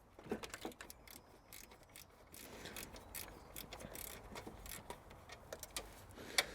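Loosening a lock nut at the back of a Mk1 Mazda MX5 engine with a ratcheting tool, rapid close mechanical clicks and ratchet rattles in short bursts, with a sharper metallic knock near the end.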